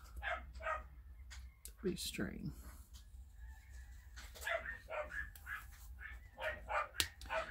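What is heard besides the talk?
Pomeranian dogs barking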